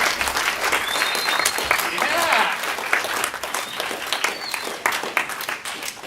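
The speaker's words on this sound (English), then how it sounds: "All those applause are for me" Audience applause and cheering at the end of a comedy talk show, dense clapping from a live crowd with voices talking over it near the microphone.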